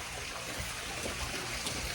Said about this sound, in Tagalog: Okay na yan, Jar, yung tubig. Oo, oh, yung tubig, patay mo na